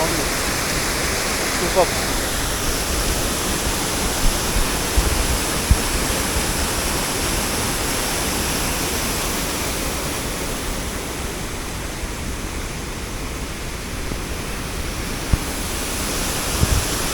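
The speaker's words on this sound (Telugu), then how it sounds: "వాటర్ ఫాల్ సౌండ్ డేంజరస్ వస్తుంది" A steady, loud waterfall roars at Maredumilli as constant broadband rushing water noise that fills everything, with a voice briefly speaking over it.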